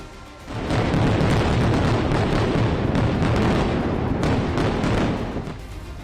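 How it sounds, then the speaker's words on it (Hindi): A massive, sustained explosion destroying a missile launcher in South Lebanon roars loud and close, a deep rumbling blast that swells quickly and churns on for several seconds before easing slightly. "इजराइल पर हमले के लिए तैयार एक मिसाइल लॉन्चर को भी धमाके से उड़ा दिया गया।"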